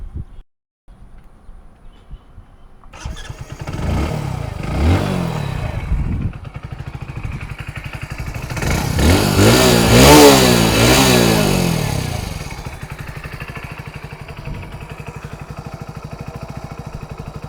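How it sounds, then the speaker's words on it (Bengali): A 2026 Hero Passion+ disc-variant motorcycle idles with a throaty exhaust, then revs hard twice, rising and falling in pitch before settling back to a steady idle. "এবার চলুন এই বাইকটার এক্সস্টের সাউন্ডটা আমি আপনাদেরকে শুনিয়ে দিই"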